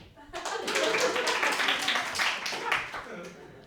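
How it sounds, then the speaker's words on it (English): An audience at a stand-up comedy special claps loudly and fairly close, a dense burst of many hands with some scattered voices mixed in, fading slightly toward the end. "Clap if you agree."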